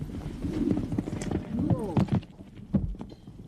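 A horse trots with a steady clip-clop of hooves on hard ground, close by and moderately loud, while a voice speaks over it and a brief whinny-like cry rises in the middle.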